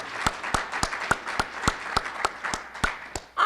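An audience applauds a club president at a district governor's talk, brief light clapping with distinct sharp claps in a steady rhythm for a few seconds.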